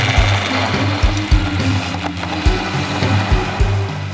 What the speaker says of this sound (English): Place the grate shave disc and set the food processor to speed 1.